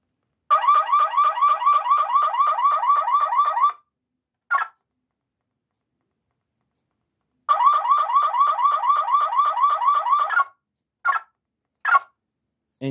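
A toy car alarm from a 2002 Road Rippers toy Chrysler PT Cruiser convertible plays a rapid warbling electronic siren for a few seconds, pauses, then repeats, followed by short isolated chirps.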